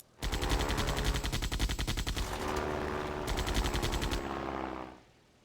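Sustained rapid machine gun fire from a World War I plane in the Sid Meier's Ace Patrol video game, a loud continuous rattling burst lasting several seconds before cutting off, with no talking.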